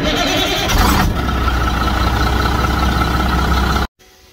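An ERF EC truck with a Cummins M11 diesel engine runs, recorded near the wheel arch, giving a loud, steady low rumble that stops abruptly near the end.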